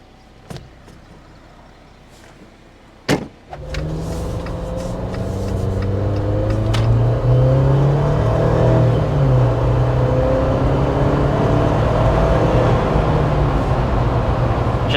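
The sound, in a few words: Jeep Wrangler 2-liter turbo four-cylinder accelerating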